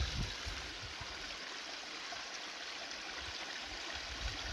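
A stream of water flows steadily through a valley, a constant soft rushing wash with no pauses, fairly faint and alone.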